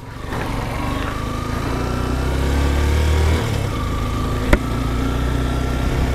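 A KTM motorcycle engine drones steadily while riding on a long country trip, with a continuous buzzing hum, a slight shift in tone midway and one sharp click near the end.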